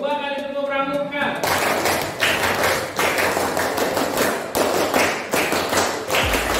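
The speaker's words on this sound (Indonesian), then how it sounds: "Dua kali tepuk pramuka." Children perform the Pramuka scout clap, a long burst of sharp, rhythmic hand claps and taps coming in grouped patterns, loud and close, after a voice leads the call.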